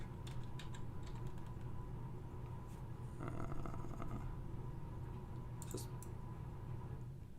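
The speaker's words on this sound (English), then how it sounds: "Let's just type it in." Rapid bursts of typing on a computer keyboard, scattered clicks and clusters of keystrokes over a steady low hum, fairly faint and close, with no voices.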